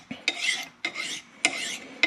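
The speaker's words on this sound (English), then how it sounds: "So we're just going to file it" A file rasps on a brass guitar nut for a Les Paul Studio held in a vise. There are three steady forward strokes, each about half a second long, with a sharp scrape at the start. The strokes are close and fairly loud, and nobody speaks.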